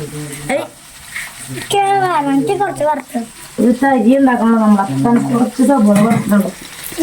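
Chicken frying in a pan gives a steady low sizzle that runs beneath a person talking close to the microphone for most of the stretch.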